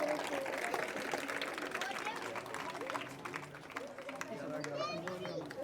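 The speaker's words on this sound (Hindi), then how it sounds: "उनके लिए भी जोरदार तालियां।" A village crowd applauds gold medal winners and the sisters being honoured, with steady clapping and cheering mixed with crowd chatter and voices throughout.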